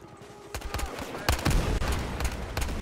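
Single and rapid gunshots from an FAL rifle in Battlefield Hardline multiplayer on PS3, a string of sharp cracks with bursts close together, loud and near, over a busy background of other fire.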